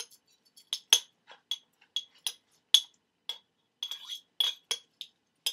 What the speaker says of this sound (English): I'm just going to give that a little bit of a stir